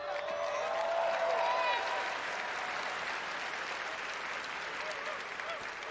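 Steady crowd applause at the Bethesda E3 2019 conference, dense and continuous, with a few whistles rising over the clapping near the start.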